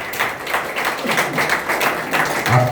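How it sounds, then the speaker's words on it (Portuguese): A church congregation applauds at a Christian family gathering, many hands clapping in a lively, somewhat rhythmic burst, close and fairly loud, with a faint voice near the end. "Aplauda Jesus mais uma vez."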